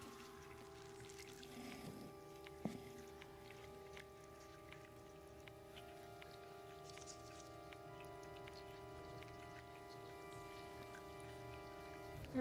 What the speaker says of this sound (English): Oh, the rain's starting up again.